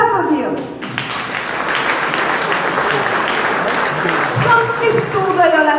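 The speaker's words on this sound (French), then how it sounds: "On peut applaudir." Sustained applause from the audience at a 2024 reception honouring local athletes, steady and full across the room, rising slightly toward the end with no voices over it.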